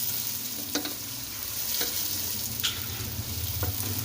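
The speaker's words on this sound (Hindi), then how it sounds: "चिकन को हम अच्छे से मिक्स करेंगे" Chicken pieces fry in oil with already-fried ginger and garlic, giving a steady close sizzle broken by a few scraping knocks of a spoon as the pieces are stirred and mixed.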